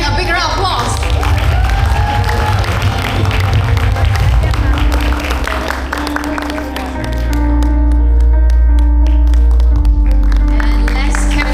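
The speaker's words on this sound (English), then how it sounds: "Let's give Frank a big round of applause" A stage audience applauds as a guest named Frank is welcomed up to present a token, with loud sustained clapping and some cheering, followed by a swell of music and crowd noise.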